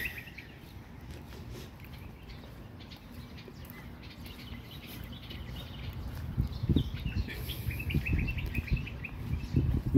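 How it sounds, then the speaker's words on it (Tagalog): Birds chirping and calling in Olaya Park, Riyadh, on a cool morning, scattered bright tweets over a low background rumble of park activity and footsteps that grows busier toward the end. "huni ng ibon."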